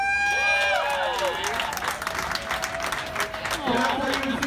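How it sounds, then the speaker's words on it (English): Crowd applause and cheering break out at a drag show at The Abbey, a busy, continuous clatter of clapping mixed with whoops and high vocal squeals close by. "Everybody applaud for Rock."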